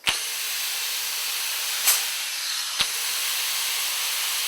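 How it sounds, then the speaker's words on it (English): Blast air hisses steadily through a gate valve on an M 21x250 system during start-up, a continuous broadband rush with two brief sharper bursts partway through, close and alone with no talk. "As I turn in the gate valve, creating restriction in this airflow"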